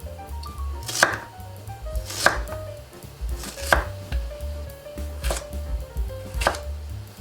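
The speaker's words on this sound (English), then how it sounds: "In the meantime, we're gonna start chopping some vegetables." A knife chops carrots on a board in a steady rhythm, with about five sharp, crisp strikes and no talking.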